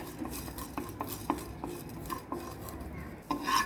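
Coriander seeds and fenugreek are stirred as they dry-roast in a pan, with scattered light metallic taps and scraping from a spoon, close up and fairly quiet, with no voices.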